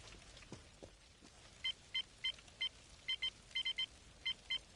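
In the Star Trek Online game, an incoming hail communication alert sounds as a quick series of about a dozen short, bright electronic beeps in an irregular rhythm, clear against a faint hiss.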